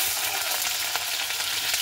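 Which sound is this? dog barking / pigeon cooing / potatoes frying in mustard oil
potatoes frying in mustard oil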